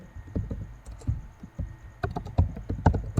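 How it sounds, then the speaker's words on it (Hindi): Keys clatter on a computer keyboard as a search query is typed, irregular bursts of close clicks, sparse at first and then quicker toward the end, with no voice. "यहाँ पे मैं लिखता हूँ प्लम्बर"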